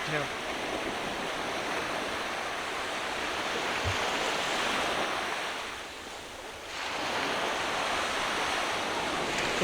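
Sea waves wash onto a public beach at Byblos, a steady close roar of surf with wind buffeting the microphone, briefly easing before swelling again; no voices.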